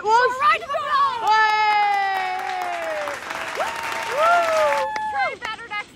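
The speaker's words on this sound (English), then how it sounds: "So a round of applause." Children in a kids' church audience clap while high, tonal singing or chanting voices ring out over the top, a lively mix of clapping and voices in a room.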